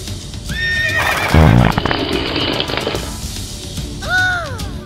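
A horse neighs and whinnies twice, a loud rising-and-falling call near the start and another near the end, with hoof clatter and thumps in between.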